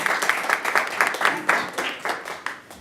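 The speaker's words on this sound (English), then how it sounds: "Can we give them a round of applause?" A small school board meeting audience gives a short, uneven round of clapping, with distinct individual claps close by and no talking over it.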